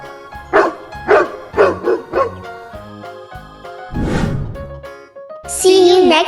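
Domestic dog barking close and loud in a quick run of sharp barks, followed by a longer whining yelp and a final high squeal.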